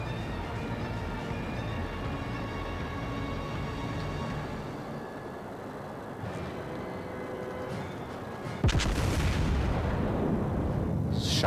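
A warship's naval guns in a battleship game rumble under a continuous low engine and sea drone, then one loud, sudden boom of a salvo arrives near the end and hangs with a long roaring tail.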